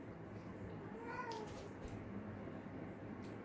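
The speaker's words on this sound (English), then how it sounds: "That's my cat." Pet cat giving a single short meow at close range in a quiet room, with some faint talk around it.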